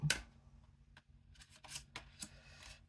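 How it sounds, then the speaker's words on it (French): A tarot card is drawn from the deck and handled, with a sharp papery snap at the start followed by several soft slides and flicks, quiet and close, no talking. "On va prendre une autre carte."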